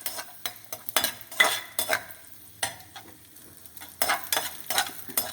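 Raisins frying in a pan for sago milk kheer, after cashews were roasted, giving soft intermittent sizzling with repeated stirring scrapes and light utensil clinks close by.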